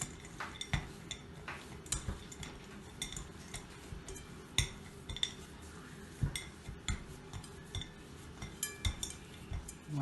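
Cookie dough with chocolate chips being mixed in a bowl, giving repeated soft clinks and scrapes of utensil against the bowl in an irregular rhythm, close and fairly quiet.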